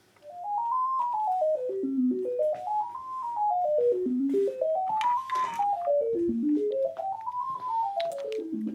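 Function generator tone from a BEA5 voltage-control setup, its pitch stepped by a sample and hold fed by a triangle wave: a steady synth tone climbing and falling in small stair-steps, sweeping up and down in repeated arcs, clear and alone.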